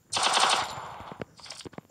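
Rapid automatic gunfire in a video game, a fast burst of loud shots for the first second followed by scattered single cracks and impacts.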